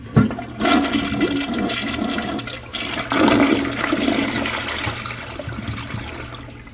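A Mansfield Alto comfort-height toilet from the 1990s to early 2000s flushes with a loud rushing swirl of water, then a second surge and a steady refill gurgle, close up.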